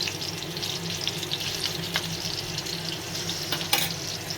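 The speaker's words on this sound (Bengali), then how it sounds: "আমি মাছ দুইটারে বসায় দিছি, ভাজা হোক।" Two fish fry in a pan with a loud, continuous, crackling sizzle, and a brief clatter of cookware comes near the end. No voices are heard.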